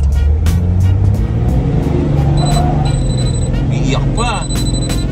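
A car fitted with Radflow suspension drives along with a steady, loud road and engine rumble throughout, and voices talk over it.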